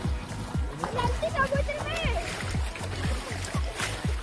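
Rhythmic splashes from feet wading through shallow sea water at Sitapalem beach, steady footsteps close by, with people talking and calling over the surf.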